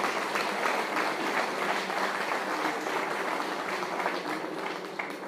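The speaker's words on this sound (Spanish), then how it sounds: "Un aplauso a Dios." A congregation applauds God during a church service in Guanajuato, Mexico, a sustained dense crowd clapping that holds steady for several seconds and eases slightly at the end, with no voices over it.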